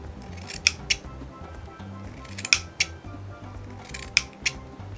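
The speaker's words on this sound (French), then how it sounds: "je vais venir couper ici des sortes de languettes" Scissors snipping tulle into small strips for handmade tulle flowers, with three pairs of quick, crisp close-up cuts separated by short pauses.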